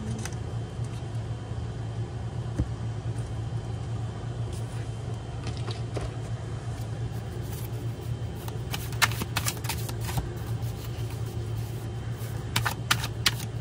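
Tarot cards shuffled by hand at close range, a steady soft riffling with sharper flicks and snaps clustering toward the end, over a constant low hum.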